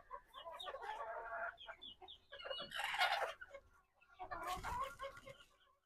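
Native chickens on a farm cluck and squawk in close, lively bursts separated by short pauses, fairly faint overall with no talking.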